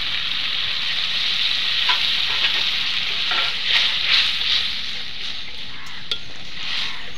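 Spiced water poured into a hot pan for egg curry sets off a steady, loud sizzle and bubbling that carries through the whole stretch, with a few faint stirring clinks and no talking.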